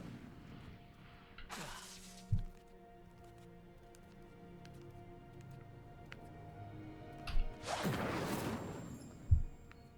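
Incendio fire spells cast in Hogwarts Legacy: two bursts of roaring, crackling flame whooshes, each ending in a sharp thud, separated by quieter game ambience with faint clicks.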